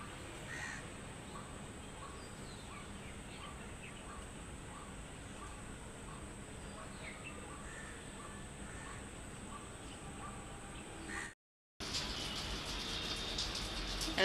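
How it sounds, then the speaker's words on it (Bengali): Crows caw repeatedly amid other birdsong on a cool morning outdoors, the calls scattered and moderately distant over a steady hiss, broken by a brief silent gap near the end. "চারিদিকে শুধু পাখি ডাকতাছে"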